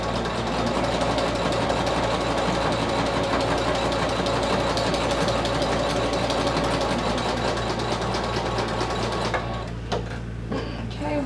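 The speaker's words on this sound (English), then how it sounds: "I'm just gonna sew a line up each side." A domestic sewing machine stitches vinyl for a clutch wallet in a continuous, rapid mechanical whir that runs steadily before stopping near the end.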